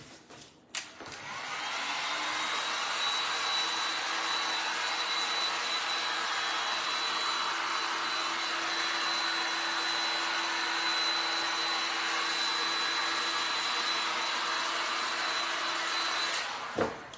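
A handheld dryer blows steadily over a painted resin tray in a craft setting, a loud continuous whooshing hum that starts with a click, holds level for about fifteen seconds, then cuts off.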